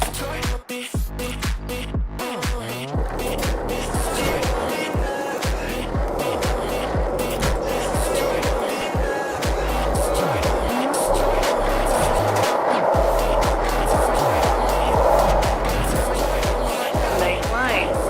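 Skateboard wheels roll and carve through the streets in the video game Skate 4, a steady gritty rumble with swelling turns and occasional scrapes that runs continuously under other game sounds.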